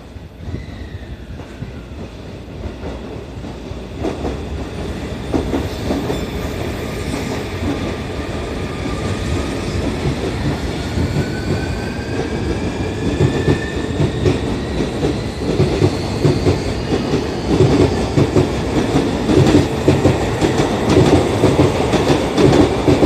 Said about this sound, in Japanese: 電車発車いたします。